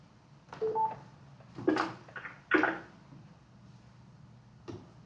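A few short bursts of telephone keypad tones on a conference call, separated by pauses, with faint background noise between them.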